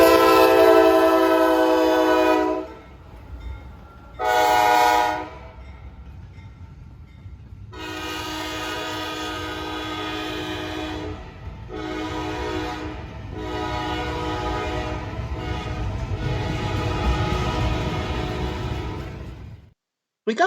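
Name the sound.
intermodal freight train passing and sounding its horn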